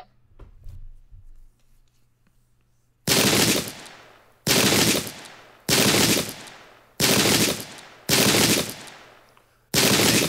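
Musket volleys ring out in a Pike and Shot English Civil War battle game, six loud, evenly spaced bursts of gunfire following a quiet stretch.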